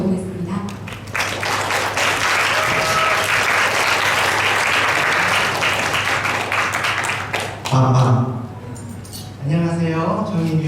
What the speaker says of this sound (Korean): 정인윤 강사님 큰 박수로 모셔보겠습니다